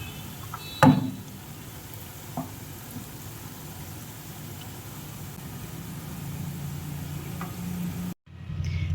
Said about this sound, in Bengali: বড়াগুলোকে আমি লাল লাল করে ভেজে নিয়েছি, এবারে আমি তুলে নেব।